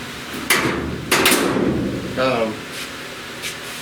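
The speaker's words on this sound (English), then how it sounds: "Hood shuts as good as it did, 30 years ago." The hood of a 1969 Chevy C10 pickup is lowered and shut after being refitted, giving a couple of solid metallic thumps close by, with someone speaking briefly in between.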